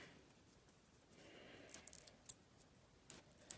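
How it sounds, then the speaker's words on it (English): Scissors snip paper while trimming a piece for a handmade masculine greeting card: a few faint, sharp clicks spaced irregularly over a quiet, soft background. "So I'm just cutting a little bit so I don't see it showing."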